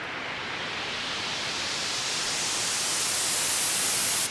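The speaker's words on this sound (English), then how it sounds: "that's just going to open the white noise for us. I'm going to put a reverb after it as well." A synthesized white-noise whoosh rises steadily as a filter sweep opens it up and reverb washes over it, a broadband hiss building in brightness and loudness before cutting off abruptly at the end.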